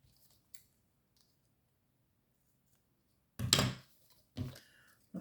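Scissors trim the excess plastic film from an advent calendar item, giving two quick, crisp snips close up after a few faint clicks in near silence.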